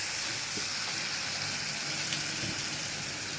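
Garlic sizzles in a hot pan, a steady close frying hiss with faint crackles running throughout and no talking over it.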